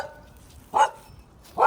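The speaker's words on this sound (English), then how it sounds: "There's dogs in the background." Dogs barking somewhere in a residential neighborhood, two separate single barks spaced almost a second apart, fairly distant and moderate in level, with no talk between them.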